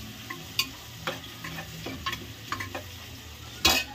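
Onions fry in a pan with a soft background sizzle, punctuated by scattered clinks and scrapes of a spoon stirring, fairly quiet and close.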